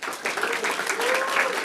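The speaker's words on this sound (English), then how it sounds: "Let's give one more huge round of applause to all of those that came up and pitched" Applause from an audience at an AI meetup in New York, honoring startup pitchers, a short burst of steady clapping with some voices mixed in.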